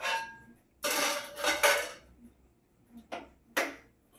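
A metal kadai set down on a kitchen stove with a burst of clattering, followed by two shorter clanks, close and fairly quiet.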